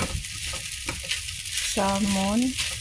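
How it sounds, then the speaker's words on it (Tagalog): Fried rice with salmon and abalone stir-fried in a pan, a continuous close sizzle with scraping stirs throughout and a brief tonal squeak near the end. "Luto tayo ulit guys ng fried rice"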